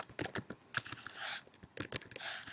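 Rapid typing on a computer keyboard while entering grading comments, with bursts of close clicking keystrokes separated by brief pauses and no talking.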